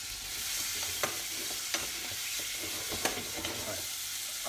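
A wooden spoon stirring in a pan in an ordinary home kitchen, giving a few soft scraping clicks over a steady broadband hiss, with no talking.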